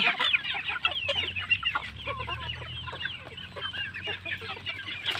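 Several chickens cluck and chatter continuously nearby while competing for banana stalk, a busy overlapping flock sound with a faint low hum underneath.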